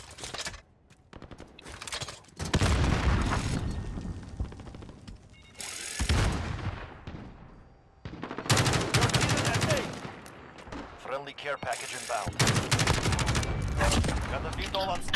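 An automated sentry gun in a first-person shooter fires loud, rapid bursts, several long volleys broken by short pauses, with heavy booming impacts throughout.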